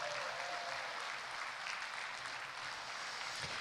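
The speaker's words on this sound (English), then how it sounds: "Can we just have a round of applause for that?" Steady audience applause at a Miss Jewel Cook Islands pageant, a dense continuous wash of many hands clapping at an even level throughout, with no talk over it.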